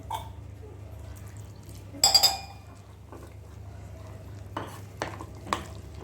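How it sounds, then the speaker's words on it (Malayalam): Batter for chicken lollipop being mixed with water in a bowl: a brief burst of clinking and scraping, then a few softer stirring knocks, close and fairly quiet. "ഇതിനകത്തോട്ട് നമുക്ക് ആവശ്യത്തിന് വെള്ളം ഒഴിച്ചിട്ട് മിക്സ് ചെയ്തെടുക്കണം"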